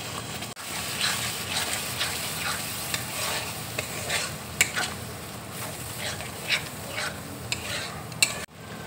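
A yogurt mixture poured over frying onions in a hot pan for paneer bhurji, giving a steady loud sizzle with repeated spoon scrapes and stirring strokes throughout, close up and without talk.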